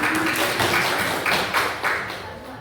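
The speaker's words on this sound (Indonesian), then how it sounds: "Tepuk tangan untuk semuanya." A small group in a school guidance session claps together for a few seconds, soft and fairly close, with the clapping gradually thinning out toward the end.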